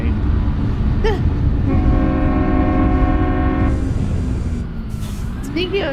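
A loud multi-tone train horn from a truck sound pack in American Truck Simulator blasts in one sustained note of about two seconds, with people talking over it before and after.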